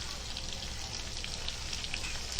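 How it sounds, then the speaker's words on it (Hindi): Chillies, cumin and mustard seeds sizzle in hot tempering oil for a Konkani mixed dal, a steady dense crackling and spitting close to the pan with no talk. "ये देखो अब ये मिर्ची जीरा और राई डालेंगे।"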